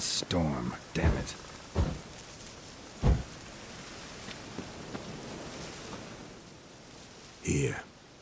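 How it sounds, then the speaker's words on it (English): Storm rain hisses steadily in The Witcher 3: Wild Hunt, a constant wash running throughout while several short bursts of speech cut in over it. "The storm."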